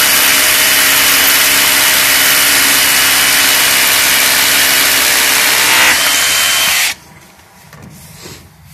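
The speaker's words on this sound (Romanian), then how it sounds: "folosim un tors 30, T30, un impact" A loud impact driver with a Torx T30 bit drives screws steadily while mounting a window frame, a continuous high whirring buzz for about seven seconds before it cuts off abruptly, leaving only quiet room noise.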